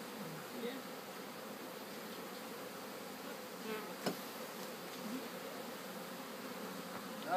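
Honey bees swarming while two beehives are combined outdoors, a continuous faint drone of many wings with occasional single bees buzzing past close by.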